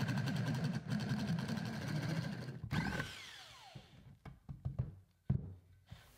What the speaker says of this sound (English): you can also use a 1-inch spade bit on a cordless drill